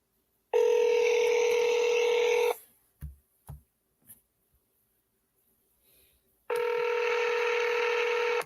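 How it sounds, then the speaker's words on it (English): Steady electronic tone of a Google Voice phone call being connected, sounding in two long even bursts of about two seconds each, with a quiet gap holding a few soft knocks between them. "Please state your name after the tone, and Google Voice will try to connect"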